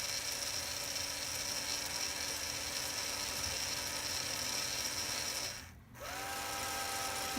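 Small electric motor run through a motor driver: a steady mechanical whine and buzz that cuts out briefly as it brakes, then restarts with a rising tone as it spins the other way.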